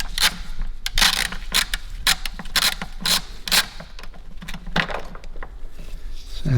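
A ratchet wrench loosens the battery clamp bolt on a Dodge Grand Caravan, giving a run of quick, close metallic clicks in repeated bursts with short pauses between strokes.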